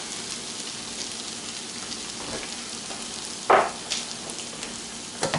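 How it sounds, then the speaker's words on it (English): Cream cheese and Parmesan being stirred into spinach and artichoke spaghetti squash until melted, heard as a steady soft sizzle with a brief scraping stir sound partway through. "Basically just want to stir that up until the cheese gets melted."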